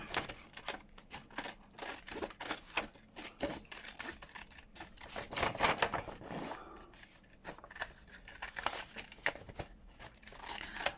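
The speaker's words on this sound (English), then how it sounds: "Let's get my medium scissors and cut around here." Medium scissors cut around a paper envelope in a run of crisp, irregular snips and paper rustles, close by and fairly quiet, with no talking.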